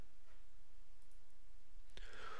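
A single mouse click on an Apply button in PDF software, a brief faint tick near the end of a quiet stretch.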